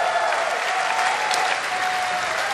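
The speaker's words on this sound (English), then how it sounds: "We love the cheering" Sustained audience applause and cheering fill a crowded StarCraft 2 live event hall at an MLG tournament, a dense steady roar of clapping and shouts throughout with no clear talk on top.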